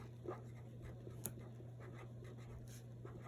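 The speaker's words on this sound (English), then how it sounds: "You can't even see what I'm writing." Writing by hand during a math lesson, faint scratchy pen strokes over a steady low hum, with a few soft taps and no talking.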